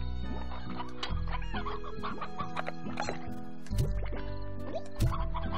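Chickens in Slime Rancher cluck and squawk repeatedly, overlapping one another, along with dripping, liquid game sounds and a steady musical background.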